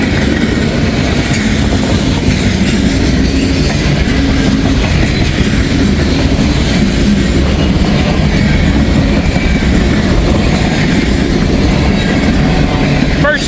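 A Norfolk Southern mixed manifest freight train rolls past, a steady, loud rumble of cars and wheels with clickety-clack running unbroken and close throughout.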